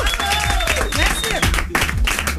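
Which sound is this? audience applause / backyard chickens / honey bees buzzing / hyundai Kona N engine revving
audience applause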